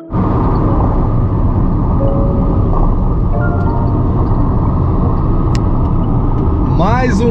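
A car engine revs and accelerates as a steady, loud rumble, with people talking over it and a brief squeal near the end.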